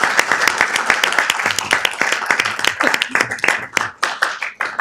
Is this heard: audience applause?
yes